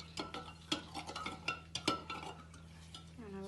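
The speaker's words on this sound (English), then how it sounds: "Okay, give it a good stir." A spoon stirs lemonade in a jug, knocking and clinking against the sides in irregular close taps over a steady low hum, with a brief tonal sweep at the end.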